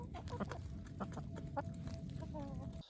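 Chickens cluck in short irregular bursts nearby, a few soft calls and a rising squawk near the end, with no talking.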